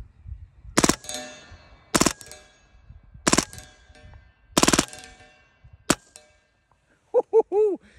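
Hatsan Blitz air rifle firing 50-grain varmint knocker slugs in four loud, separate bursts of rapid shots, then a single shot and a few ringing metallic clangs from the target.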